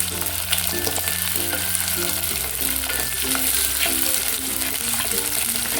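Small shallots fry in hot oil for a brinjal tamarind curry. A dense, steady sizzle sits close by with soft stirring under it, and no one talks.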